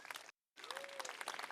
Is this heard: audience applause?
yes